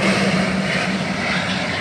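An airplane passing over Suvarnabhumi Airport in Bangkok, its steady loud engine roar filling the air without a break and heard alone with no talking.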